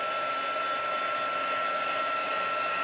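A heat tool warming embossing powder for an inked snowflake craft blows a loud, constant airy whir with a steady high whine. It runs alone, with no talk over it.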